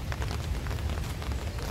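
Rain falls outdoors as a dense, steady patter close by, with soft crackling drops and no voices.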